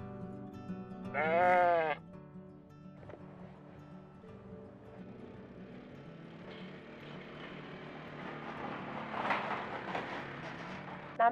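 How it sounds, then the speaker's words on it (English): A heavily pregnant Poll Dorset ewe on a farm park gives one loud, close bleat early on, followed by quieter farmyard rustling and a faint distant bleat later. "I'm just on my way to go and feed some of our heavily pregnant Poll Dorset ewes."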